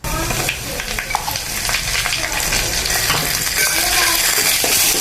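Dried red chilies and ground rasam powder sauté in hot oil in a home kitchen pan for tomato rasam, giving a steady, close, continuous sizzle and crackle with faint stirring throughout.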